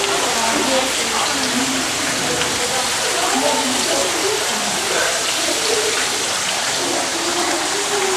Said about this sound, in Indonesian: suara riak air yang mengalir deras di Pancoran Mas